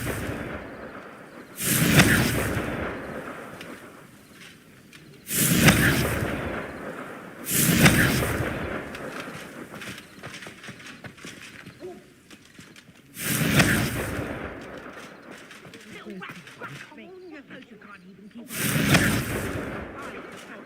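Magic-spell explosions in a video game, five loud booming blasts spaced a few seconds apart, each swelling and fading, with a voice shouting between them.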